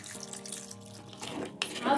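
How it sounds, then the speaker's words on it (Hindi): Water pours into a pan of noodle soup seasoned with soy sauce and green chili sauce, a steady running trickle that swells and splashes louder toward the end, close by over a faint background hum. "पानी ऐड करेंगे।"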